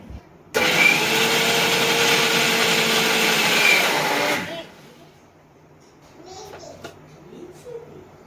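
An electric mixer grinder whirs loudly for about four seconds while grinding spices in a small jar, steady and close, then cuts off, leaving faint voices and kitchen noise.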